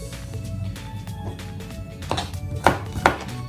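Knife on a cutting board chopping carrots in a kitchen, soft repeated cuts under a steady low background hum, ending with two louder distinct knocks.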